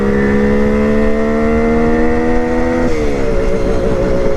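A carbureted motorcycle engine idles steadily just after a single-kick cold start, running smooth and even without misfires, then drops slightly in pitch near the end; loud, close and continuous with no talk.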